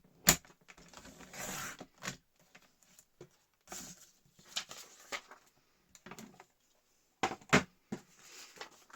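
Paper being cut while making an envelope folio: quiet, irregular snips and crisp slicing sounds close by, separated by silent gaps, with no voices.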